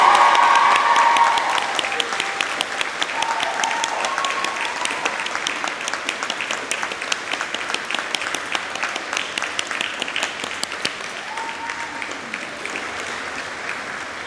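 Graduation ceremony audience at the University of Manchester applauding the graduates, a loud sustained wash of many hands clapping that starts strongest and slowly thins, with a few cheers mixed in and no talk.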